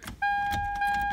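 Keys jangle briefly as they go into the ignition of a 2001–2004 Toyota Tacoma, close and short, while a steady electronic tone sounds underneath.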